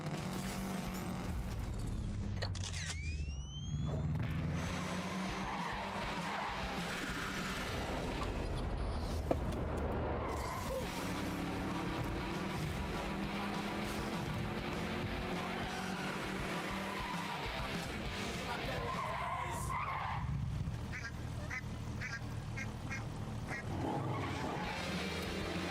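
A car in a racing video game skids with tire squeal and engine noise over a steady, moderately loud mix of continuous racing sound.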